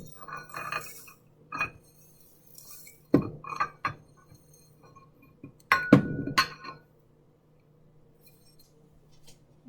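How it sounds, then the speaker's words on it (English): Dried herbs tipped into a grinder, heard as a few scattered clinks and rattles of hard pieces against glass and metal, with sharper clusters near the start, middle and around six seconds, then near silence. "I'm going to put the herbs in the grinder."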